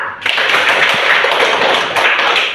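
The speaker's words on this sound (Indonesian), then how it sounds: "Tepuk tangan untuk Okta" A classroom of students gives a burst of applause for a classmate, dense steady clapping that starts abruptly and stays loud and close for a couple of seconds.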